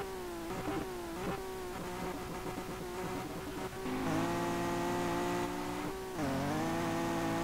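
Race car in the Street Legal Racing Redline video game launching from a standstill, its engine revving hard with rising harmonics through gear changes, loud and continuous with no talk over it.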